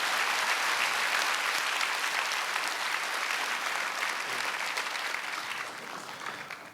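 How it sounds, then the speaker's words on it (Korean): Audience applause for the Gracia choir at a Seoul joint church service, sustained dense clapping from a large congregation that holds steady before tapering slightly at the end, with no voices over it. "여러분 다시 한번 그라시아 합창단에게 큰 박수 부탁드립니다."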